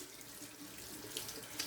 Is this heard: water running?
yes